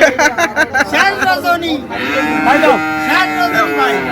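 Sahiwal bulls at a busy cattle market give repeated loud, close moos, the calls stretching into long drawn-out lows, with people talking in the background.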